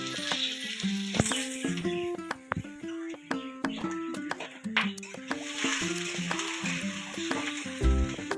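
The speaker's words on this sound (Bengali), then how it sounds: "কড়াইয়ে তেল দিয়ে দিয়েছি। এবার আলুটা ভাজতে দেব।" Potatoes sizzling in hot oil in a wok for egg chow mein, giving a steady close crackle with sharp spatters and metallic stirring clinks throughout, no talking.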